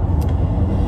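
A car drives along the road during a moving day, heard from the interior as a steady, close low rumble of road noise with a brief faint high tick near the start, with no voices.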